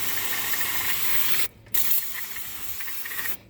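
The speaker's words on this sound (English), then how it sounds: "I'm gonna get this sprayed down with brake parts cleaner" Brake parts cleaner sprayed onto a new brake rotor on a 2006 Mercedes-Benz front brake job, a steady close hiss that cuts out briefly, then resumes in a second long burst before stopping.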